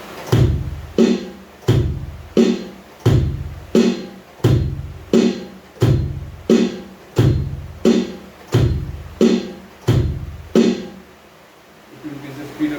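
A basic drum groove played at a faster speed without a drum kit: about a dozen evenly spaced, punchy thumps in a steady beat, heard close and alone before stopping near the end.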